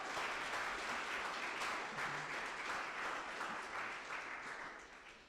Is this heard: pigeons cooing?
no